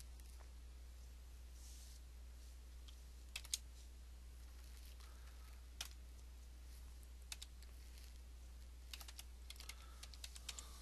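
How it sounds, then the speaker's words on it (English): Scattered keystrokes and a Tab press sound on a computer keyboard while an account form is filled in. The clicks come in short, quiet bursts over a low steady hum, with no voice. "Typing in the first name, I'm pressing Tab."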